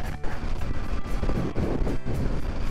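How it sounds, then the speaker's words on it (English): Strong wind buffets the microphone on a mountain ridge by a power line cut along a backroad, a loud, continuous roaring rush with gusty surges and brief dips, with no one talking. "Super windy up here."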